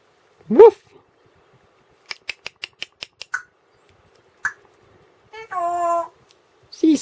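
An African grey parrot voices a single short woof-like call in imitation of a dog, amid a quick run of sharp clicks, a squawk and a longer tonal whistle, all close by in a quiet room.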